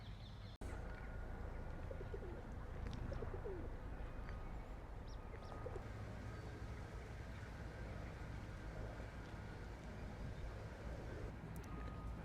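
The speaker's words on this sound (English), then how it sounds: "Listen to the birds." Birds sing and pigeons coo in Kew Gardens in London, heard faintly through a steady outdoor background hum, with scattered chirps and soft low coos spread across the scene.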